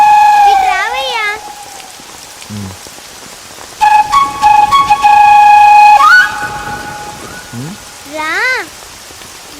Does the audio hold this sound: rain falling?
yes